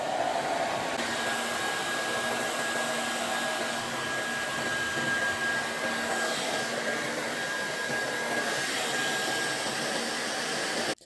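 A hot air brush hair dryer runs at medium heat and medium power, giving a continuous close whooshing roar with a faint high whine that cuts off at the end.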